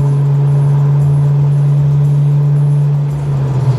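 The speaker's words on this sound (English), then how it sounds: "It's holding it too long. It's not shifting." An Infiniti Q50S with a VR30 engine drives while its faulty transmission holds a gear without shifting, giving a steady loud engine drone at constant pitch with a slight wobble near the end.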